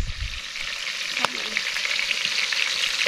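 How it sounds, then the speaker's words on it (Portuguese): Oil heating in a pan for frying fish at a campsite gives a steady, broad hiss of sizzling throughout, close by, with one sharp click partway through and no talking. "o óleo pra fritar nosso peixe já tá aqui esquentando"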